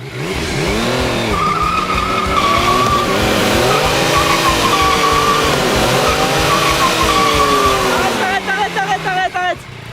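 Car tires squeal loudly and continuously over a revving engine, the screech wavering in pitch for several seconds before breaking up.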